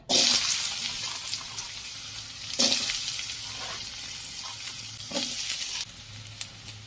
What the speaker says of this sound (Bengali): কড়াই গরম হয়ে গিয়েছে দিয়ে দিয়েছি সরষের তেল